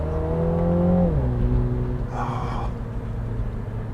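A Mini GP3 accelerating hard out of a bend: a loud, close engine drone whose pitch climbs, steps down sharply at a shift about a second in, then pulls steadily on.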